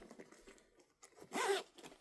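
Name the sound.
zipper being opened on a sewn crossbody bag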